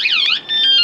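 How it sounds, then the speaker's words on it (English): A van security alarm sounds loudly and close, a warbling siren sweep that shifts into steady electronic tones, with no voices over it. "the alarm would go off"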